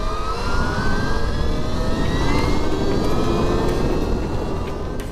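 A Stark Varg EX electric dirt bike set to 80 horsepower accelerates hard, its motor whine climbing steadily in pitch over a loud, constant rush of wind and drivetrain noise, with no talking.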